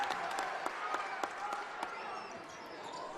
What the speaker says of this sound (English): getting a round of applause from all the fans on that side